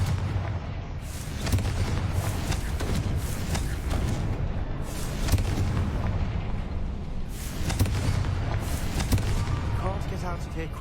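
Confringo fire-spell explosions from the video game Hogwarts Legacy, with heavy booming blasts following one another in a dense, continuous barrage that fills the whole stretch with rumble.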